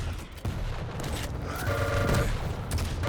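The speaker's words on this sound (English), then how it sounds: "Ooh, but this rocket hurt him a lot" Rocket explosions and weapon fire in a Quake Champions duel match, a dense, loud barrage of booms and gunfire that continues throughout with no pause.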